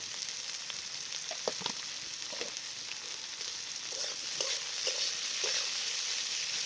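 Onions frying with a pinch of salt in a pan: a soft, continuous sizzle runs throughout, with occasional light stirring clicks and scrapes of a spoon, fairly close and undisturbed by talk.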